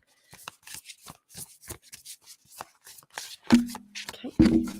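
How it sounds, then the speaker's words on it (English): Several decks of playing cards shuffled by hand in a series of quick riffling and rustling bursts, the loudest two near the end, close and alone with no talking. "It's going to be quite loud as I'm shuffling these decks"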